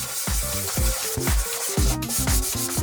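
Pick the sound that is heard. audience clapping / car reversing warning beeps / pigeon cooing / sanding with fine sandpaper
sanding with fine sandpaper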